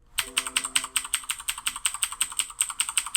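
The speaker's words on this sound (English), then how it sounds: "let's do that sound test with the Razer keyboard that I have in front of me" Keys clack on a Razer mechanical keyboard in quick, regular succession, about a dozen and a half crisp, close strokes with a bright clicky edge, no talking.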